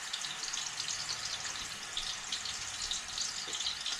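Five hamburger steak patties brown in a pan, giving off a steady, fairly quiet hiss of sizzling fat with small crackles and no voices.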